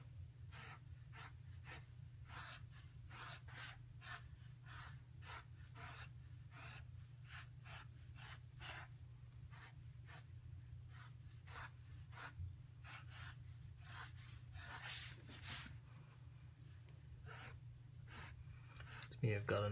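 Pencil strokes rasp steadily across paper, sketching and shading in rapid repeated scratches close up, over a low constant hum, with no talking.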